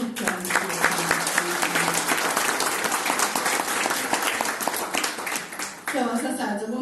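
An audience at the Filitalia International 2024 gala applauds: dense, lively clapping that continues throughout. Voices and a few cheers rise above the clapping near the start and again toward the end.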